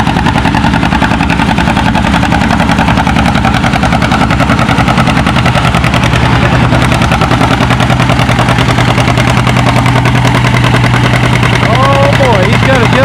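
A John Deere G tractor pulling a 6,000-pound sled at a tractor pull, its engine thumping in a steady low, loaded rhythm throughout, with an announcer talking over it.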